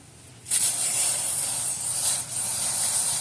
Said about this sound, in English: We're going to spray it off one more time